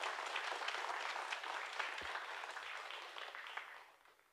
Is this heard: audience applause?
yes